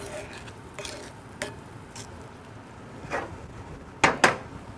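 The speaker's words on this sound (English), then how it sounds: "So you want to just stir them a little bit." Cherries, sugar and butter being stirred in a cast iron pan: soft, scattered scrapes and taps, ending in two sharper clinks against the iron near the end, with no talking.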